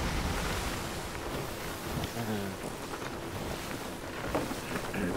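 Wind rushing over the open sea aboard a pirate ship in the video game Sea of Thieves, a loud, constant blustery roar mixed with water wash and creaking, with faint voices underneath.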